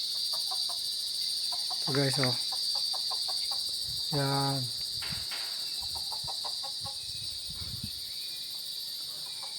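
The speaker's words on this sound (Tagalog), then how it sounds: "Ang huni lang ng mga ibon, manok ang maingay dito." Chickens cluck and call in a quiet rural spot, a couple of louder rising squawks standing out over a constant high insect drone, while someone speaks briefly nearby.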